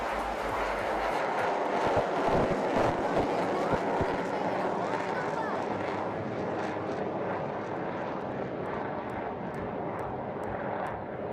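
An aircraft engine roars throughout a low, slow aerobatic flyby at the Aero India 2021 air show at Yelahanka air force station, a steady loud drone with crowd and announcer noise underneath.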